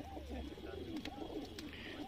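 A pigeon held in a person's hand coos softly in repeated low, rolling calls, close but quiet, with faint background noise and no clear speech.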